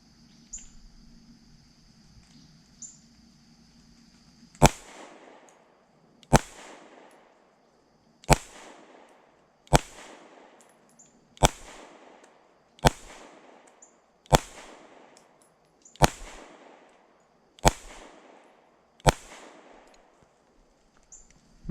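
A Fusion Firearms XF Pro pistol fires jacketed hollow point rounds, about ten loud, sharp shots evenly spaced roughly a second and a half apart, each with a short ringing tail and no talk.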